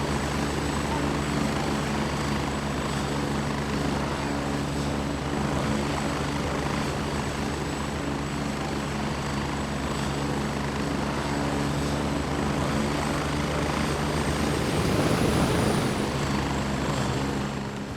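A helicopter passes in the Gray Zone Warfare video game. Its constant rotor and engine drone fills the whole stretch at an even, moderately loud level and swells slightly near the end.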